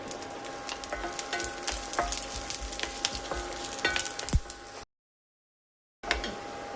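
Chopped garlic fries in a pan, a close crackling sizzle with scattered pops and stirring taps, cut off by a short stretch of silence before the frying sound resumes, with no talking.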